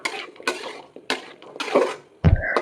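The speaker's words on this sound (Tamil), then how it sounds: "இதில் நம்ம அரைச்சி வச்சுருக்க தேங்காய் பேஸ்ட்டை வந்து இதில் சேர்த்து நல்லா மிக்ஸ் பண்ணிக்கலாம்." Coconut paste being stirred into a jackfruit seed masala in a pan, heard as a few scraping, clattering strokes of a spoon against the metal, each one separate and close, ending in a louder knock.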